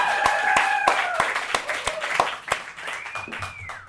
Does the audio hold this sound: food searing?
no